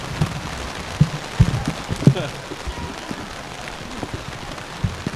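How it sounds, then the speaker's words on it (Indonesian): Heavy rain pours down steadily on an outdoor scout jamboree in West Java, with a few louder drops and knocks breaking the constant hiss. "Berteduh, hujannya besar."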